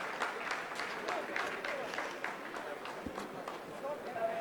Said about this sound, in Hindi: आप इस तालियों के गड़गड़ाहट को सुन सकते हैं जो कि सेकंड हैवरिंग फेज के कंप्लीट होने के बाद